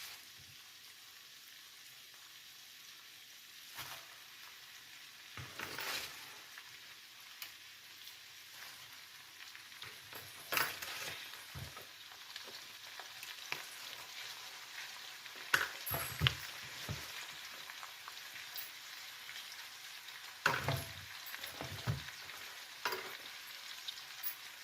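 Spinach dropped into a pan with nearly boiled potatoes gives a faint, steady sizzle, broken by occasional louder scraping and stirring clatters from a utensil against the pan.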